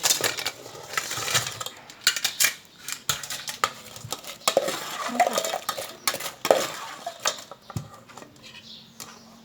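Fish meat for Thai larb with fried tilapia being added and stirred in a bowl, giving a run of close clinks, scrapes and soft clatters of utensils against the dish, irregular and fairly quiet, with no talking.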